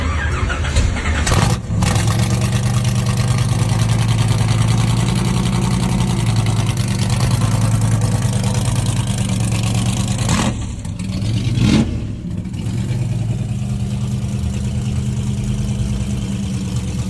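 A 1966 Chevy Corvette with a 454ci big-block V8 on Holley Terminator X Stealth EFI and side-exit headers rumbles loudly at idle, broken by a couple of sharp throttle blips and a short pause before settling back.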